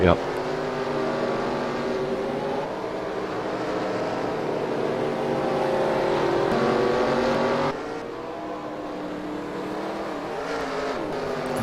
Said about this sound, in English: So we'll see if Reaper's got what it takes to get by the leader here and stay out ahead of him